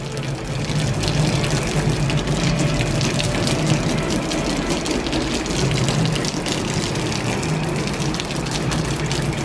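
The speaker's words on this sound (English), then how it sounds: "That's a horrible stream of water." Water streams steadily from a garden hose onto a car during a wash, a continuous loud gushing hiss that holds without a break the whole time, with no voices.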